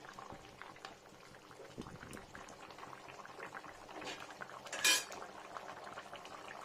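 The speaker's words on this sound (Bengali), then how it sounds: "আর এই যে মাছটা ফুটছে না" Mrigal fish curry made with cumin paste, ginger, onion and garlic bubbles gently in a pot. The simmer is faint and steady, with one brief metallic clink partway through and no speech.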